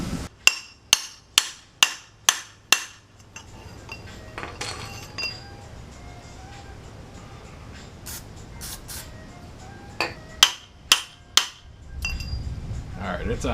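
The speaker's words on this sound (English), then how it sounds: "I'll probably get a little block of wood because my hammer is going to go right through the middle of that pipe, and we should now be able to drive that in" A hammer strikes a wooden block to drive a part onto the pipe of a Suzuki Boulevard C50 bobber. Seven sharp, evenly spaced knocks ring out, a quieter stretch follows, then a few more scattered blows, all close and loud.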